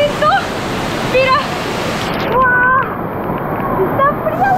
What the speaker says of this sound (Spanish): ¡Empieza a caer el agua de la cascada y el agua está fría!